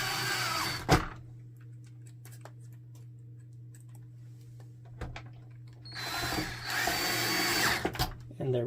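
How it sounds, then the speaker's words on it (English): Screws being driven back into an HP DeskJet 3510 printer, short bursts of a small power driver whirring between quieter gaps, close by over a constant low electrical hum. "Now we just have these two screws right here to put back."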